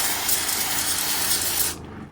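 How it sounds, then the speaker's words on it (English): Water spray blasting grime off the fan blade of a heavily soiled mini split air conditioner, a steady close broadband hiss that cuts off near the end. "getting in there at an angle and spraying off our fan blade"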